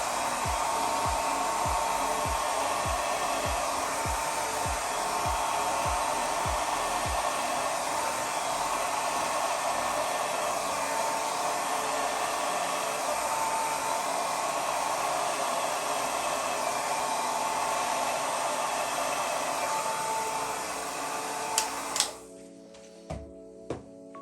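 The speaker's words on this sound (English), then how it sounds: "I got my little mini hair dryer. I got it on high fan and cool." A small mini hair dryer on high fan and cool blows a steady, loud whirring rush of air over acrylic paint for over twenty seconds, then clicks off, leaving a few faint knocks.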